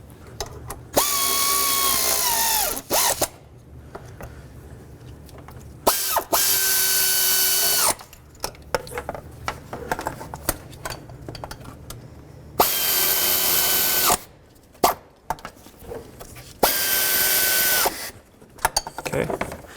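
A ratchet, apparently powered, snugs up the knock sensor bolts on a 2003-2009 Toyota 4Runner in four whirring bursts of one to two seconds each, with a rising pitch as each bolt tightens, separated by quieter clicks and handling noises.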